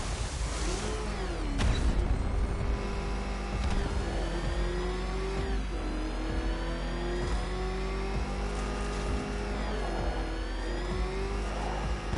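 The Batmobile's engine in Batman Arkham Knight drones and revs repeatedly, pitch rising and falling with acceleration, loud and close under a busy game soundscape.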